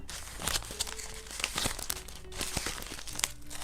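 Paper surprise packets of Sanrio-themed Roblox outfits crinkle and crunch as they are unpacked by hand, with steady close rustling and a few sharp tearing bursts.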